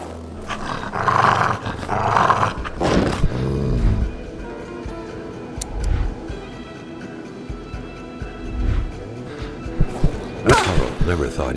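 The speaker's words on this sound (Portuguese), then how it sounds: "Está aqui um cão. Um lobo." Wolf growling in the Xbox One game Kona, rough snarls and roars rising in bursts near the start and again toward the end, over steady game ambience with someone talking.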